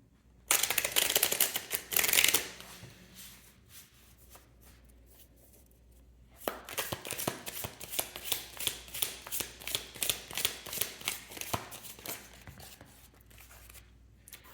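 Tarot cards are shuffled and riffled by hand for a closing card, a brisk burst of crisp flicking, then a pause, then a longer run of rapid rhythmic card snaps, close and fairly quiet with no talking.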